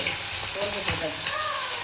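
Oil sizzles and crackles steadily as chicken fries in a pan, with faint background murmur under the bubbling hiss.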